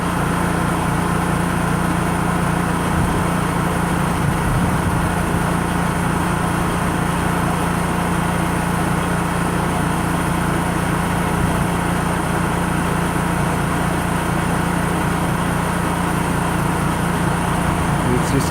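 A Honda EU3000is generator runs unloaded on propane with eco throttle off, a steady close engine drone that bounces ever so slightly in speed throughout.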